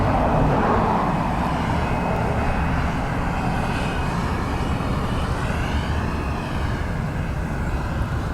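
A jet airliner takes off from runway 10 right at Dublin Airport, its broad engine roar steady and loud for the whole stretch, blending with a low rumble, with no voices over it.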